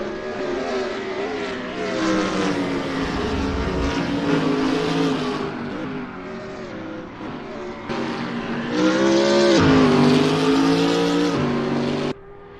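A BMW Z4 race car engine drones loudly through the gears, revving and shifting with a sustained harmonic whine, rising sharply near the end before cutting off.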